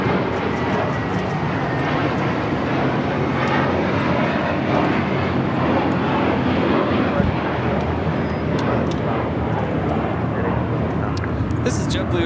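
JetBlue Airbus A321 taking off from LAX bound for Boston, a loud continuous jet engine roar that stays steady and close throughout, with a faint voice in the background.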